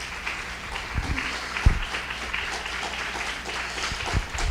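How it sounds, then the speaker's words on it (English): A crowd applauds Dr. Richa Agarwal at a Bala Vihara teachers' gathering, with steady, moderately loud clapping that continues throughout and has a few sharper thumps mixed in. "So another round of applause for Dr. Richa."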